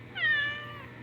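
A rescued cat gives a single clear, drawn-out meow close by, rising and then trailing off over about a second, with no voices.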